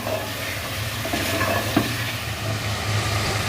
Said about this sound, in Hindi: चिकन डालकर अब हम इसकी 5 से 6 मिनट तक अच्छे से बुनाई करेंगे